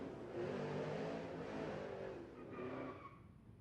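A Chevrolet Camaro drag racing at Texas Motorplex during Rocky Mountain Race Week: a sustained, fairly distant engine roar that holds steady, then eases off as the car pulls away.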